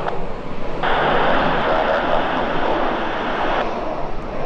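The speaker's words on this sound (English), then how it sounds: "Stand by for the low fly." An aircraft making a low flyby over an airport, a loud steady broadband roar that swells in and holds for a few seconds before easing, with no voices heard.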